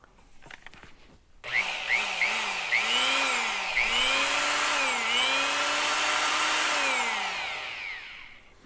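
A handheld power tool, being run to test an arc fault breaker, whirs up to speed and holds a loud, steady whine with its pitch dipping and rising repeatedly under load before winding down at the end.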